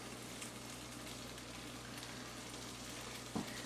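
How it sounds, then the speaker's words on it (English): Garlic stuffed okra fries in a pan with a steady, quiet sizzle, a soft even crackle running throughout, and a brief clatter near the end. "So we're going to let this fry."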